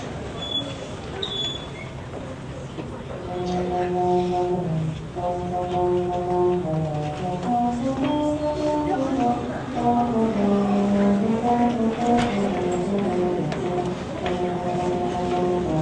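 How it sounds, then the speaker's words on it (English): Brass baritone horn playing sustained melodic notes an octave below a cornet, several phrases of steady tones, clear and fairly loud in a band-introduction setting. "So this is the sound of the baritone."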